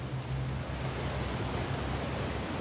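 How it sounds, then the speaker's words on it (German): Steady rushing water from a breach high up in a game environment in Uncharted: The Lost Legacy, a constant broadband roar heard from a moderate distance with no other sounds over it. "Wasser."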